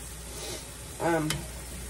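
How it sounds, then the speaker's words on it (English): Meat pie filling is stirred in a pan, a soft scraping swish under a low steady sizzle, with a brief louder scrape and clink partway through and a voice murmuring faintly in the background. "I'm just gonna add me a little bit and stir it in there"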